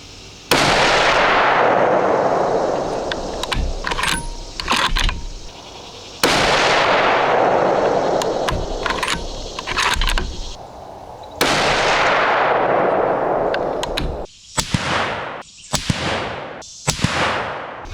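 Several .30-06 rifle shots firing Federal Fusion Tipped 180-grain ammunition at a range, each a loud sharp crack with a long decaying echo, spaced a few seconds apart, the last few coming in quicker succession.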